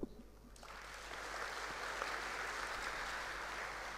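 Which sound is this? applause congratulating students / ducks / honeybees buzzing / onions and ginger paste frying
applause congratulating students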